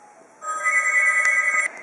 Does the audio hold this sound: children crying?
no